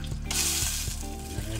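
A sauce of lemon juice and apricot jam sizzles in a pan, a steady close frying hiss with a few soft stirring knocks, no voices.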